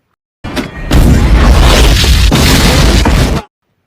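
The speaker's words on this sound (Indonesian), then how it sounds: "Saat mereka berlari, satu bom meledak di dekat Mace dan Mace mengalami putus kaki kanannya." A loud, close bomb blast from the 1998 action film Soldier, a sudden burst followed by a sustained roaring rumble of about three seconds before cutting off abruptly.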